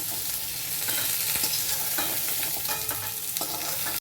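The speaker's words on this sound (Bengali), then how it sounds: "দেখো ডিম আর পটল দুটোই ভাজা হয়ে গেছে।" Eggs and pieces of pointed gourd (potol) fry in oil in a pan, giving a steady close sizzle with light stirring scrapes throughout, no talking.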